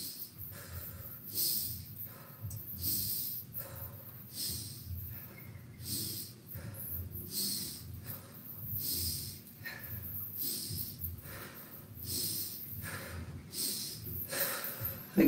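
Slow, steady breaths in and out during seated chair yoga shoulder shrugs, each breath a soft airy rush repeating in an even rhythm, close and clear, with no talking.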